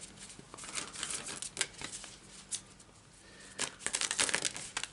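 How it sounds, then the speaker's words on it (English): A deck of tarot cards is shuffled by hand in bursts of papery riffling and crinkling, close and fairly quiet, with short pauses between rounds. "Now this deck is not shuffling as nicely as I would have hoped."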